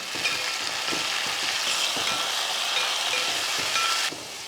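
Onions and tomatoes fry in oil for a South Indian fish curry, a loud, steady broadband sizzle running unbroken for about four seconds with a few soft stirring knocks, then cutting off abruptly near the end.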